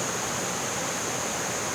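Steady broadband rush of a waterfall cascading over rocks in the Daniel Boone National Forest, constant and even, heard alone without voices.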